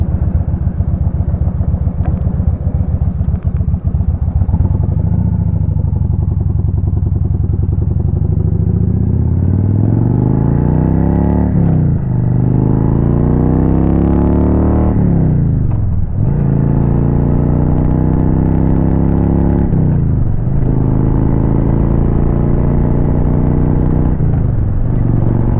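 A Kawasaki Vulcan 2000 motorcycle being ridden gives a loud, close engine roar that climbs in pitch through repeated gear runs, each rising sweep followed by a brief drop at the shift.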